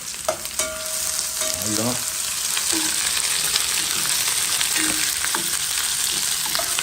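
Onions sizzle steadily while caramelizing in a pan, a loud continuous frying hiss with a few stirring scrapes and clinks, and a brief spoken word over it.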